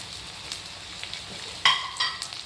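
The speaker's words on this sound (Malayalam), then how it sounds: "നമ്മുടെ വെളുത്തുള്ളി എല്ലാം മൂത്തിട്ടുണ്ട് നമുക്കിതിലേക്ക് കാന്താരി ഇടാം" Bird's eye chilies drop into garlic frying in hot oil, setting off a sudden loud burst of sizzling and crackling that flares twice, over a low steady fry with light stirring.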